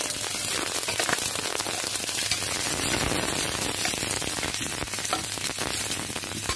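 Tempering oil with spluttering mustard seeds, dry red chillies, curry leaves and onion fries in a pan, a loud, continuous sizzle like heavy rain with scattered pops, close up and unbroken, with no voices.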